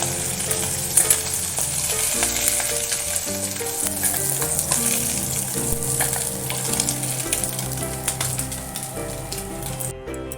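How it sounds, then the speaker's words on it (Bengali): Mourola fish frying in a pan, a loud continuous sizzle with frequent stirring scrapes, close and uninterrupted for the whole stretch. "এইরকম ভেজে নেবো, এর থেকে বেশি কড়া ভাজবো না"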